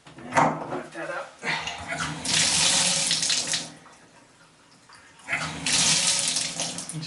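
Tap water runs into a bathtub to rinse off loosened soap scum and dirt, loud gushing bursts that stop and restart, with a person talking in the gaps.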